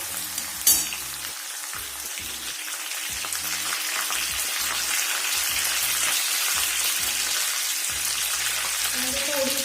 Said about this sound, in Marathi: डावा व्यवस्थित हलवून